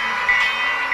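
A toy model train runs along its track with a steady whirring hum and faint rail clatter, brief and close, with no voices.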